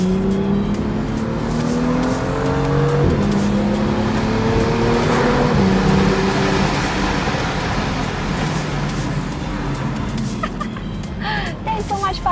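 BMW M2 with dual-clutch transmission driven hard, engine revving up through gear changes with tires squealing, loud and close throughout, with voices over it near the end.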